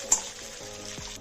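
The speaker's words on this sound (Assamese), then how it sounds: "ভাজি লওঁ আগতে কেঁচা জলকীয়া" Raw green chillies frying in hot oil in a pan for a mashed fish dish make a faint, steady sizzle, with a small clink near the start and a light stirring scrape later.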